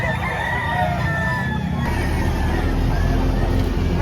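A Sweater breed rooster crows amid a busy outdoor chicken market, the call fairly near but partly buried under steady crowd babble and background noise.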